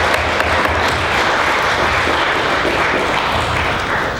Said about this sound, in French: So I think we can applaud on peut applaudir pour les comités.